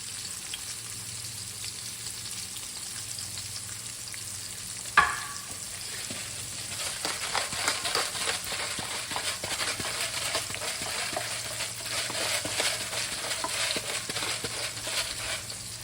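Potatoes sautéing in a pan beside steak au poivre, a continuous crackling sizzle that swells after a single sharp clack, steady and close with no talking over it.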